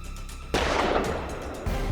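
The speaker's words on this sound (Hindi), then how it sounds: "जिस समय मैंने गोली चलाई ठीक उसी समय बिंदिया ने भी गोली चलाई।" A single loud gunshot cracks out in a TV crime drama, followed by a decaying burst and a second sharp impact soon after, abrupt and close.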